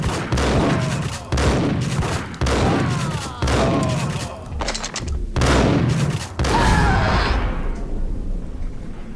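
Video-game gunfire crashes out in loud, dense bursts of roughly a second each, repeated with brief gaps, before fading into a quieter tail.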